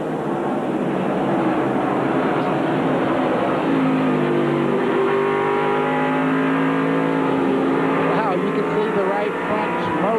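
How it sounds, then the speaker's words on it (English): NASCAR Craftsman Truck Series trucks racing at I-70 Speedway in 1997, engines droning and revving loudly and continuously with shifting pitch as the pack passes, a commentator talking over the roar throughout. "Kenny Irwin's driving the wheels off this truck today"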